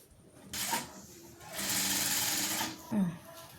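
An electric sewing machine stitches piping onto a nightie in short bursts, a brief run followed by a longer steady whir and a final quick burst, close and clear.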